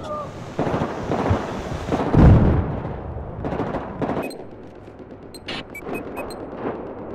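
Gunfire and explosive booms in the Battlefield 4 video game, scattered loud shots and heavy blasts rising and fading over several seconds, followed by quieter distant pops with some bright metallic pings.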